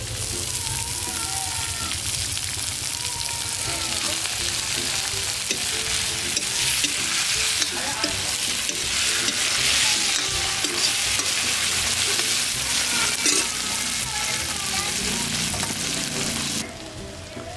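Tomatoes frying with turmeric and chili in a pan for a breakfast thali, a loud steady sizzle with stirring scrapes throughout, close up, with talking faintly underneath.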